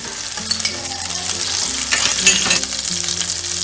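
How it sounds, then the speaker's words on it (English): Steady, close sizzling and crackling of butter frying in a hot pan, with a low background hum running underneath. "Be careful because it might sizzle and spatter."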